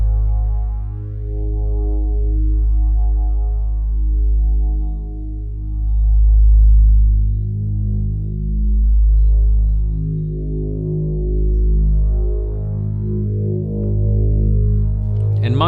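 Held synthesizer pad notes forming an evolving drone, low sustained tones that slowly swell and fade in repeated waves over about sixteen seconds, loud and continuous with no talk.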